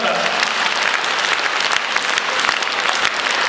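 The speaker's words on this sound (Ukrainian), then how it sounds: "дякую за ваші оплески" An audience at a concert claps loudly and steadily throughout, a dense wash of many hands with no pauses and no voices standing out.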